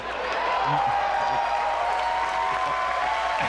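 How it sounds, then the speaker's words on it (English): A large crowd at the Bethesda E3 2019 showcase applauding and cheering, a dense continuous roar of clapping and shouts with some voices talking over it. "This is a wild crowd."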